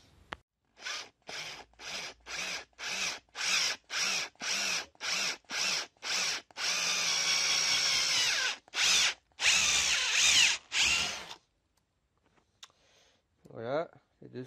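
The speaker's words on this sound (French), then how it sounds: "on va les percer et les tarauder" A power drill boring holes in parts of a Dolex 87 vise runs in a dozen short, regular bursts, then one longer stretch and a few more bursts, loud and close, before a quiet gap and brief voices.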